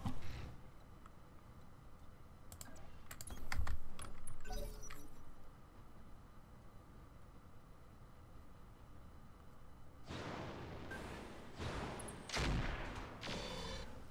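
Weapons fire from a Roguetech mech battle video game, with bursts of gunfire and explosive impacts clustered near the start and again near the end, loud and sharp over a steady low rumble, with no talking.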